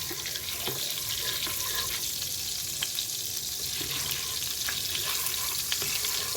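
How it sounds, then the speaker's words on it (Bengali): Garlic sizzles in melted butter in a pan at home for a cheesy chicken sauce, a steady, close, hissing crackle that runs evenly throughout with no talking. "মাখনটা মেল্ট হয়ে গেছে এখন এটার মধ্যে আমি রসুন দিয়ে দেব"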